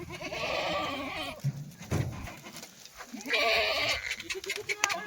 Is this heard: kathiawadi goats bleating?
yes